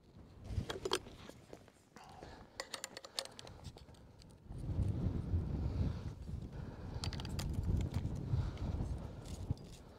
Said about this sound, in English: hope this wind will calm down